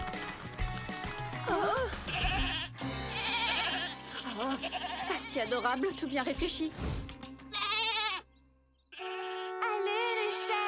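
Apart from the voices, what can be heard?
goats bleating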